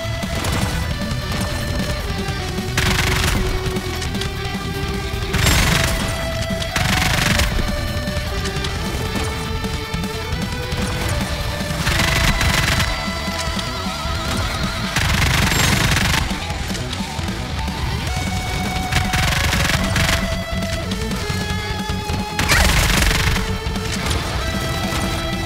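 Gunfire and impacts from a mobile shooter battle against Rapture enemies in Goddess of Victory: Nikke, sustained bursts and crashes under a steady musical score, no voices.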